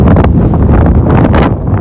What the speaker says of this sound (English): Gusts are up to 30-40 miles an hour